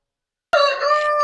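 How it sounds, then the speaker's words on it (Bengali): After a moment of silence, one of two large hens gives a single short, close, harmonic call that is loud and clear. "এখানে আর দুটা মুরগি, এরা অনেক বড় বড়"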